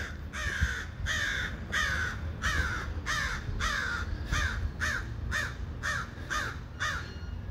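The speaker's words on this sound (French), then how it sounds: "Maître Corbeau, en son arbre perché, tenait un fromage, mais il l'a échappé parce qu'il a trop jasé" A crow in the video game Doggerland caws about ten times in an even, steady series, each call harsh and clear at moderate distance over a low rumbling background, with no speech.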